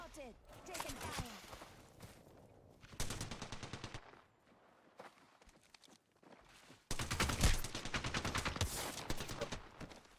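Bursts of automatic gunfire from a video game crackle in rapid strings, a sharp volley early on, then a denser, louder sustained barrage toward the end, with players talking over the shooting.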